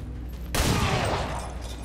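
Gunfire in XCOM 2: War of the Chosen bursts in after a half-second of quiet game ambience, a loud close volley of shots with a crackling, reverberant tail that carries on to the end.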